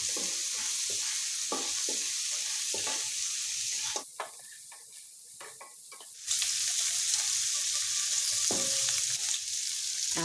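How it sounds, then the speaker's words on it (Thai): Shrimp stir-fried with chili and salt hisses loudly in a hot pan, with quick scraping stirs against the metal; the sizzle dips quieter for a couple of seconds midway, then returns at full strength. "คั่วไปจนให้กุ้งสุกนะคะ"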